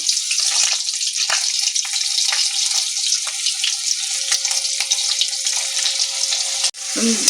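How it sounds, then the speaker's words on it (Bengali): Peanuts fry in hot oil over a low gas flame with a bright, crackling sizzle and scattered pops, steady and close throughout. "আর গ্যাসের আঁচটাকে লোতে দিয়ে আমি বাদামগুলো ভেজে নিয়েছি"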